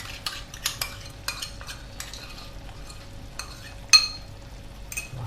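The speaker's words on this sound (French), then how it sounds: "je remue et puis je vais faire cuire à nouveau pendant 5 minutes" Spoon stirring crème fraîche into a mushroom sauce for pasta in a pan, with scattered soft scrapes and clinks against the pan over a faint steady simmer, loudest near the end.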